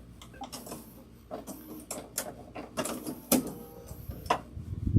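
A home sewing machine with a walking foot option stitches a fabric tote bag in uneven mechanical bursts, a close rattling clatter that stops and restarts, with a few sharper ticks and no talking.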